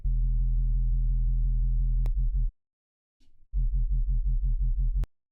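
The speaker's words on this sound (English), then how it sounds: "It already sounds a bit wobbly and maybe deep dubstep-ish" Deep Serum synth bass with a fast LFO wobble, pulsing in steady rhythmic throbs, cutting out briefly before resuming the same wobbling pattern, loud and alone with no voices.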